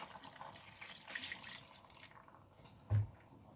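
Two cups of water poured into a pav bhaji mix of chili powder, pav bhaji masala and salt in a home kitchen, a steady splashy pour followed by a single soft thump near the end.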